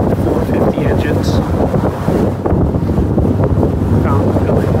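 Fountain 34 Thunder Cat powerboat with twin Mercury Racing 450R engines running on a chilly day in Washington, North Carolina, a loud steady engine roar mixed with heavy wind buffeting the microphone and water rush throughout.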